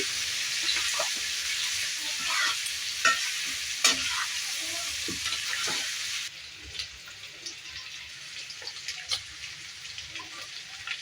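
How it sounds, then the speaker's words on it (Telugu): Mutton sizzling in hot oil with turmeric while being stirred, a steady frying hiss with intermittent scraping clinks of a utensil against the pan; the sizzle drops noticeably quieter partway through. "చూడండి మటన్ కొంచెం బాగా ఫ్రై అవుతుంది"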